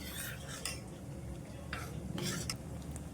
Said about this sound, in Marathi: आपण परत असं व्यवस्थित असं मिश्रण ढवळून घ्यायचं आहे.